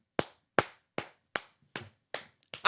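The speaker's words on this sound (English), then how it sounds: "I'm doing a church clap." Six slow, evenly spaced hand claps ring out close and sharp in a solemn church-clap rhythm, followed by a faster final clap just before a voice begins.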